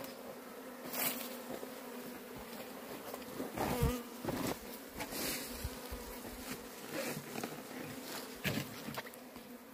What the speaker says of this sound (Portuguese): Muita abelha, né, amor? Muita abelha.